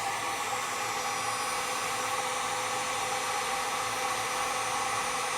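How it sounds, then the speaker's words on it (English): A heat gun shrinks butt connectors on trailer wiring, giving off a steady, loud, continuous whooshing roar of blown hot air that holds unchanged for about five seconds with no talking. "Now we'll use our heat gun to shrink down our butt connectors."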